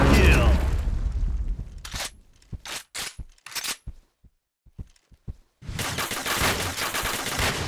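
Gunfire in the shooter game Point Blank comes as a sharp burst of rapid shots, then single cracks, then a loud sustained barrage near the end.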